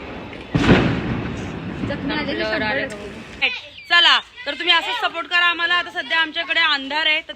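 A sharp Diwali firecracker bang followed by a few seconds of crackling, then people talk and exclaim close by.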